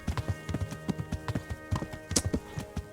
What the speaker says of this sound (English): Love the sound of the horse galloping through the water.